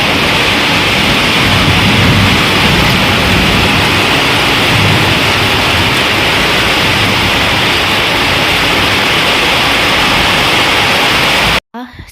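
Heavy rain pours during a Kalbaishakhi storm, a dense, loud, unbroken roar of rainfall and wind noise that fills the whole stretch before cutting off abruptly at the end.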